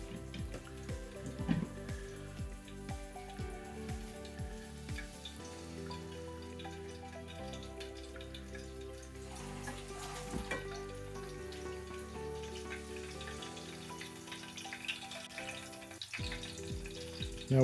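Empanadas frying in a pan of oil, a steady close sizzle with crackling pops throughout, continuing without talk.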